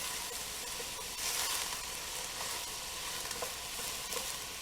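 Green pepper is stirred into a pot of vegetarian chili, giving a soft, steady scraping and faint sizzle that runs continuously at low level, with no talking.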